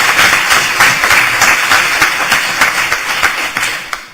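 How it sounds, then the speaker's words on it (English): An audience at a law school event applauds, many hands clapping in a sustained, fairly loud burst that tapers off toward the end. "So I think the institution deserves a round of applause for that."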